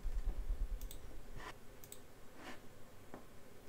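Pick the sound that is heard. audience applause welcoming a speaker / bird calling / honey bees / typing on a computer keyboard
typing on a computer keyboard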